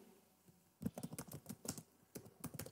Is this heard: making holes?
no